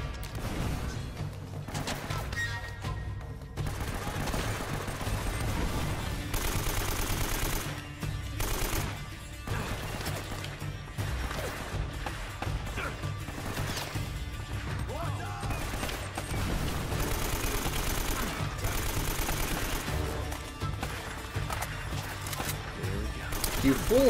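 Sustained gunfire from the Uncharted video game, dense and loud throughout with bursts and crashes layered over steady game music and effects, with a voice talking over it at times.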